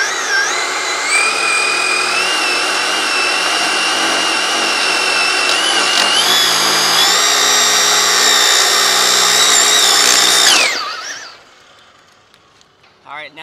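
Traxxas Drag Slash RC car with a 1969 Chevy Nova SS body on a 3S LiPo does a burnout, its brushless motor giving a loud, steady high-pitched whine that shifts pitch midway, then cuts off abruptly.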